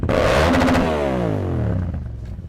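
A Kawasaki Z650 or Yamaha FZ-07 motorcycle engine revs hard up close, its pitch climbing quickly and then winding back down as the throttle eases off.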